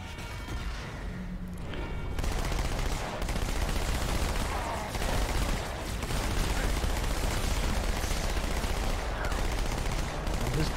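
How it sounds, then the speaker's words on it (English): Big cannons and heavy weapons fire in Halo 2: Anniversary, a dense continuous barrage of gunfire and booming blasts, loud and sustained, with a player talking over it at times. "Like the big cannons firing in the background"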